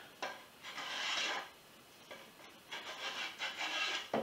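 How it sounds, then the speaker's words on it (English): A Veritas spokeshave shaves wood for a canoe seat in several separate rasping strokes, each lasting up to about a second, close and fairly quiet, with short pauses between and no talking. "This is one of my four Veratus spoke shaves from Lee Valley Tools."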